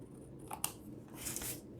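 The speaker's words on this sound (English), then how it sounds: "Our paper snips are great little tiny sharp pointed scissors that just do a great job lining up across the edge." Small sharp-pointed paper snips cutting card stock for a handmade card, a few quiet close snips and a soft slicing sweep, with no talking.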